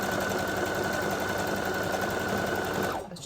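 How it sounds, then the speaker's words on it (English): A sewing machine stitching down fabric scraps runs in a steady, fast, close mechanical whirr and rattle for about three seconds, then stops abruptly. "I was just sewing that loose side down, I think, just to tidy it up a little bit."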